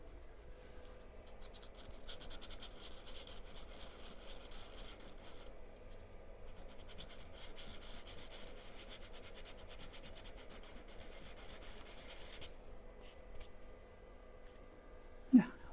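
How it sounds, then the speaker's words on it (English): A wooden garlic board is sanded by hand with soft, continuous rubbing strokes, faint and close, ending with a small knock. "sand that little bit off there, finish it"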